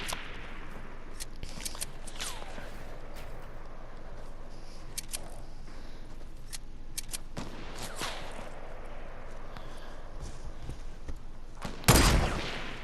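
Sniper rifle shots in the Fortnite video game: several sharp cracks spaced through the clip over game ambience, with one loud, close blast near the end.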